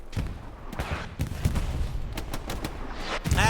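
Artillery shelling and explosions rumble through a Hell Let Loose competitive match in the Hürtgen Forest, with repeated dull blasts and crackling gunfire at irregular intervals, some near and heavy, others more distant, forming a dense battlefield din.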